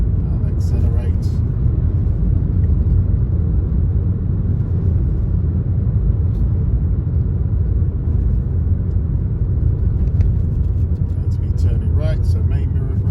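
A car on a test route accelerating toward a roundabout, heard from inside as a steady low engine and road rumble, with a voice talking briefly near the start and the end.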